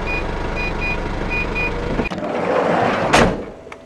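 Steady, evenly spaced high warning beeps repeat for about two seconds over an idling Mazda Bongo engine hum, then stop as a mechanical clunk and rustling follow.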